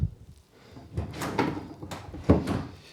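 Push-pull drawers of a coffee table slide open and shut in a few quick wooden knocks and scrapes, close and distinct with no talking.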